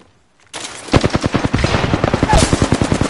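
Rapid automatic gunfire in the video game Apex Legends, a loud burst of evenly spaced shots that starts abruptly after a short silence and rattles on continuously to the end.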